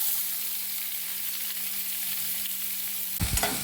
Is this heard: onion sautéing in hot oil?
yes